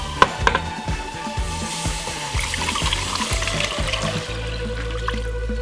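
Water poured into a pot for chicken broth, a continuous splashing, trickling pour near the mic with a few knocks at the start and a low hollow fill tone building toward the end.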